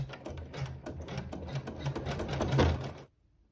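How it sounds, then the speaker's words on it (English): A sewing machine runs satin stitching on a corner piece of fabric, a rapid, even needle chatter that holds for about three seconds before stopping abruptly. "we'll sew the satin stitching on the corner piece of fabric 4"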